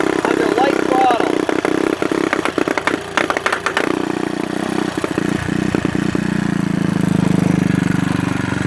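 A 150cc engine that struggles to make power runs under light throttle; a continuous close, buzzing idle-like drone with some clattering knocks in the middle, holding steady and rising slightly toward the end.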